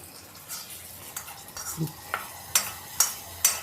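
Soft sizzling of tempering spices in a pan with several sharp stirring scrapes and clinks, spaced irregularly and heard up close.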